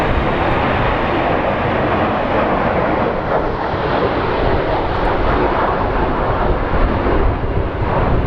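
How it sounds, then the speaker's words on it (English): A Delta Connection airliner passes at Phoenix Sky Harbor airport with a steady, loud, broad jet roar that holds level for the full eight seconds, with no voices over it. "There's the Delta Connect."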